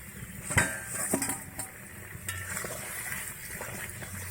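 A metal pot lid lifts off a simmering pot of sour fish curry with mango, a sharp clink followed by a few lighter rattles and a soft steady bubbling hiss underneath.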